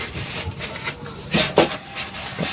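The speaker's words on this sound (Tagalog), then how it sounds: "Tanggalin ko lang sa box." An Epson L14150 A3 ink-tank printer is lifted out of its cardboard box indoors, with scraping, rubbing and a couple of louder knocks as it slides free, close up.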